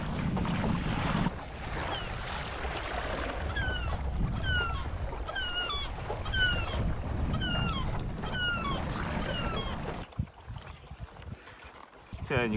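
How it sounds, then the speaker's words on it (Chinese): Strong wind and rough waves at sea on an Arctic kayaking trip, a steady broadband roar of gusts and water that runs almost unbroken, with faint chirping calls above it, before dropping off near the end. "现在不知道为什么风浪很大"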